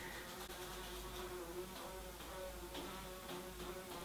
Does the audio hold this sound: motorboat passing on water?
no